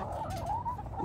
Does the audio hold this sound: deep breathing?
no